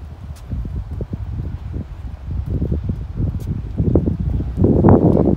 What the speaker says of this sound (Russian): Ветер дует.